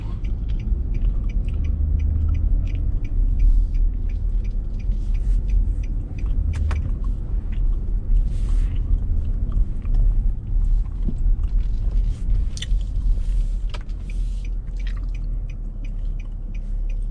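A 2012 Infiniti QX56 SUV on a test drive gives a steady, low road rumble and muted cabin hum for the whole stretch, with faint ticks and small clicks scattered throughout and no talking.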